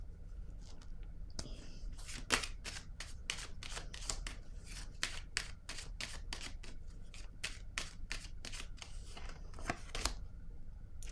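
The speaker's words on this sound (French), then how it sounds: "Je vais piger une autre carte ici." Playing cards are shuffled and drawn by hand, a quick run of crisp riffling snaps and flicks close up, with brief pauses between bursts in a quiet room.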